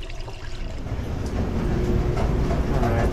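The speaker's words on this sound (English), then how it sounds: "Right now the water is flowing." Water runs steadily down a clogged drain in a shower and sink where sewage is backing up, a continuous low rushing and gurgling that builds slightly louder toward the end, with no voices.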